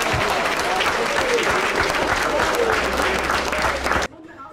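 A loud, steady round of audience applause at a hiking association's event, sustained dense clapping that cuts off abruptly near the end.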